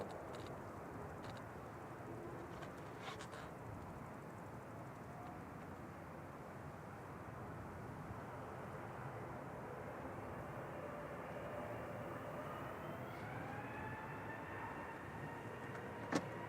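British Airways Airbus A320neo departing Manchester Airport, a faint, distant steady jet rumble with a rising engine whine toward the end, heard from afar without talk.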